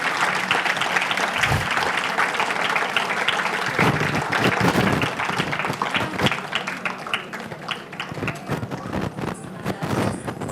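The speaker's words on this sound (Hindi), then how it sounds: "तालियां बजनी ही चाहिए" Dense audience applause at a Salangai Pujai stage event, a steady wash of many hands clapping close and loud throughout with no break.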